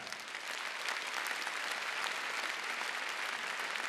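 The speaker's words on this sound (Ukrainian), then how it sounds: "І зараз я маю велику честь поіменно запросити на цю сцену під ваші бурхливі оплески і овації Мар'яна Шуневича" Enthusiastic audience applause and ovation at a stage event honoring performers, a dense continuous wash of clapping that swells slightly after the start and holds steady, fairly distant.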